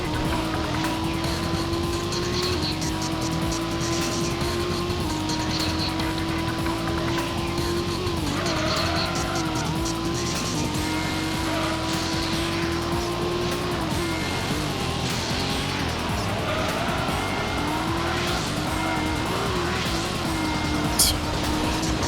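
In Gran Turismo, a car's engine drones loudly while its tires squeal through a long slide, the pitch wavering and dipping as it shifts and corners, continuous and close with no talking.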